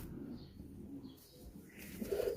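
Pigeons at a Lahore pigeon market give soft, low cooing calls close by, a few faint murmuring coos over a quiet background, brief and gentle.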